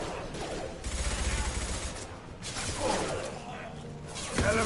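Mass Effect 2 gunfire bursts in rough, rattling volleys, loud and close, with short gaps between salvos and a final sharp hit.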